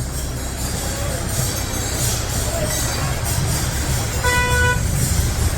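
A bus horn honks near the end over steady road traffic and crowd noise during the Pandharpur Wari pilgrimage on the Pune to Saswad road; the honk is a short, loud, tonal blast and the traffic rumble runs throughout.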